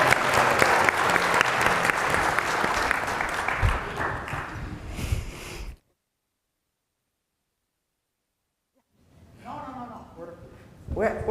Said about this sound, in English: So big round of applause for Dr. Bakker.